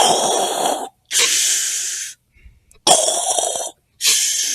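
A voice imitates a hospital breathing machine with four long, hissing, rasping breaths separated by short pauses, loud and close.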